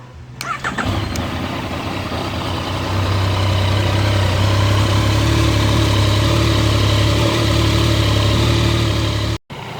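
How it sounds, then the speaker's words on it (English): A Yamaha Tracer 9 motorcycle engine starts and settles into a steady, close idle that rumbles evenly for about nine seconds before a brief cutout. "So I'm going to start the bike again and let it run."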